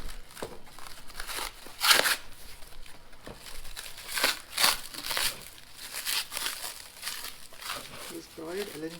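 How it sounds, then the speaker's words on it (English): Crinkly packaging around a Royal Enfield Interceptor GT 650 stainless megaphone exhaust is unwrapped close up, bursts of crumpling and tearing rising and falling under a man's intermittent speech. "a lot of packaging stuff, lot of packaging here"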